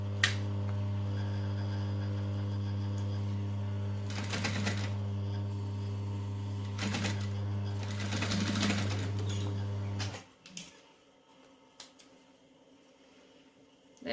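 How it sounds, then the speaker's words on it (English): A sewing machine stitches a fabric pouch in a steady, loud whirring run for about ten seconds, then stops abruptly, leaving only faint handling clicks and quiet rustling. "I'm stitching as close as I can to that open edge without falling off the edge."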